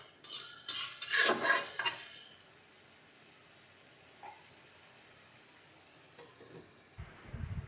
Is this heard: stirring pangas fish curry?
yes